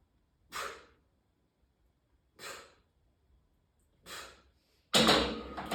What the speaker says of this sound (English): Deep breath in at the top.